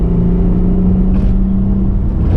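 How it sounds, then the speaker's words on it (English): Acura TL SH-AWD fitted with Borla Pro XS mufflers, its exhaust a steady close-up low drone and rumble under acceleration, with a faint whir rising briefly midway. "If you're on the gas lightly, there's barely any exhaust note, but once you're on it, then obviously it starts getting louder."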